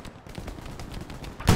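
Gunfire in the World War II shooter game Hell Let Loose comes as a quick run of muffled, distant-sounding shots that rumble low. A louder, sharper blast lands at the very end.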